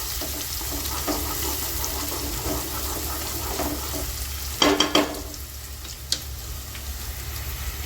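Sliced onions frying slowly in a pan until brown, a continuous loud sizzle with a few sharp scraping clatters midway and one brief knock near the end; no voices.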